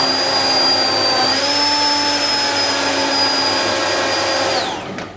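A food blender whizs carrot and coriander soup with fresh coriander, giving a loud, steady high motor whine that holds for about four and a half seconds before spinning down at the end, with no talking.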